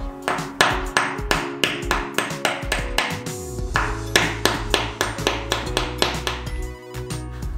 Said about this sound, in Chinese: 拿锤子轻轻的敲一下。